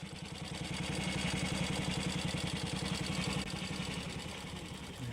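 A Ducati 250 Mark III single-cylinder four-stroke motorcycle engine from 1967 runs steadily at close range, its rapid even firing pulses thumping throughout, the note easing slightly toward the end.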